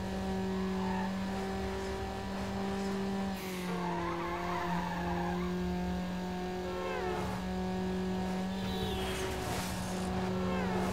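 Tuned Honda Civic in a Need for Speed Underground street race, engine droning steadily with shifting pitch as tires squeal and skid through corners, loud and continuous throughout.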